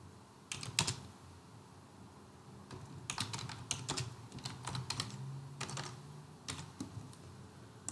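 Typing on a computer keyboard while a project name is entered in structural design software: irregular bursts of crisp, close keystrokes with short pauses, and no voices.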